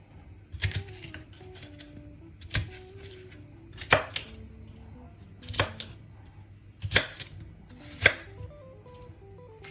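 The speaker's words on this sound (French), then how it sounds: "Je coupe un demi-poivron jaune et un demi-poivron rouge en morceaux." Yellow and red bell peppers cut into pieces with a knife on a board: a handful of crisp, irregularly spaced chops ring out close over a quiet room, with some soft rustling between them.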